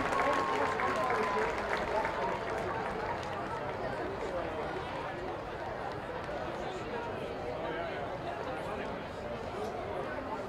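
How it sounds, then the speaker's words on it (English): A crowd cheers and applauds for a high school drill team at a Friday-night football game between Morton Ranch and Cinco Ranch, a dense, steady roar of clapping and voices that holds for the whole stretch. "Let's give a big round of applause for our Cougar Stars also."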